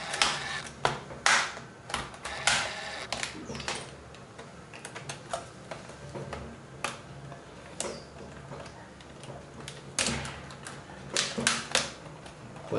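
An IBM ThinkPad laptop keyboard is pried loose, giving irregular sharp plastic clicks and snaps scattered throughout, close and moderately loud with no talk.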